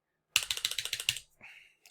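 Rapid burst of about eight crisp keystrokes on a computer keyboard while entering data into an Access database, followed by a softer clack and a faint tap, close and alone with no talking.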